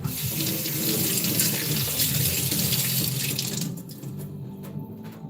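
Tap water runs steadily into a kitchen sink while garlic is washed under it, a loud continuous splashing rush that cuts off toward the end, leaving near silence.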